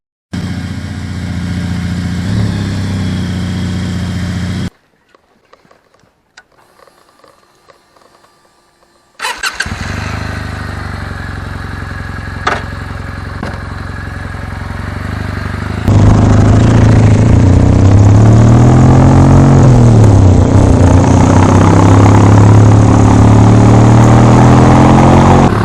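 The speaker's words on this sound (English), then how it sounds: "the W800 has an air-cooled parallel twin engine" A Kawasaki W800 with an air-cooled parallel twin engine fires up after a brief silence, then idles steadily and close before the revs lift into a louder, rising engine note.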